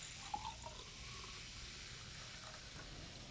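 Water trickles and splashes steadily as it is poured into a beaker holding iron nails, a soft, continuous, fairly faint pour lasting a few seconds with no voices.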